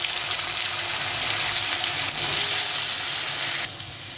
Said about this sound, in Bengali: দিয়ে এর মধ্যে আমি আলুটা ছেড়ে নেবো,